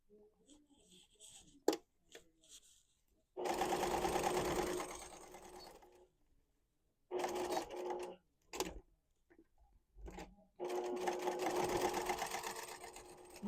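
A sewing machine stitches a quilted book sleeve in three bursts of rapid, even needle chatter, each a few seconds long. Quiet pauses with small handling clicks fall between the bursts, and no one speaks.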